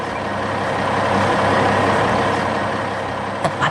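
Heavy loaded trucks roll past at close range, a loud, steady engine and road roar with a brief clatter near the end.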